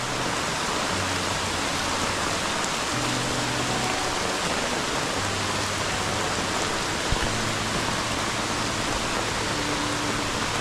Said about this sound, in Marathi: याचा अंदाज घेऊ शकता पाऊस किती पडतोय आपल्या इथे